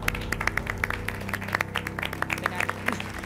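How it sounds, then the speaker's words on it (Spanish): Scattered hand claps from a small group in a television sewing-competition studio, uneven and moderately close, mixed with background chatter and a low steady hum. "Un aplauso."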